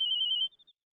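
A telephone rings with a bright electronic trill that holds steady, then breaks into three short beeps that fade out. It is clear and close, with no voices over it.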